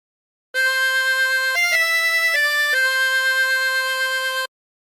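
A reedy, buzzy 16-hole tremolo harmonica plays a short, steady melody of sustained notes, stepping up and back down, loud and alone.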